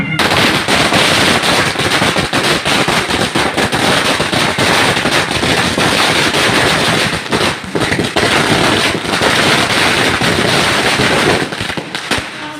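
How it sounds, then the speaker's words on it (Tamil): Firecrackers go off in a long, relentless string of rapid cracks and pops, loud and continuous with no pause, set off to welcome relatives arriving at a family coming-of-age ceremony. "அந்த சீருக்கு கொண்டு வர்றதுக்காக வெடியெல்லாம் போட்டு நாங்கள் உள்ளே வரவேற்கிறோம்"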